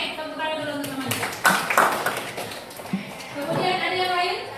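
Classroom students clap for classmates, a short ragged burst of applause in the middle while a teacher's voice talks before and after it.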